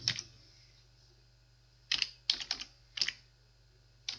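Computer keyboard typing in short bursts, close and crisp clicks separated by pauses, with no talking.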